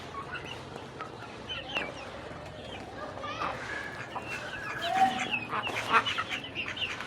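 Young chicks and ducklings chirp and peep in high, busy bursts, with a hen clucking nearby and children's voices and talk in the background.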